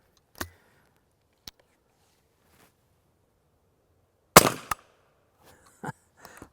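Suppressed .300 Blackout subsonic rifle shots through a Dead Air Ghost silencer on an outdoor range, a few sharp muffled cracks spaced apart, one louder with a brief tail and others fainter.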